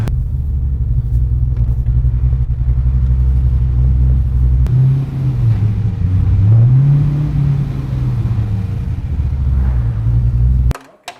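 A Porsche 911 fitted with a big American V8 and a Summit cam idles with a loud, lumpy rumble, then revs up and down in two swells before cutting off abruptly.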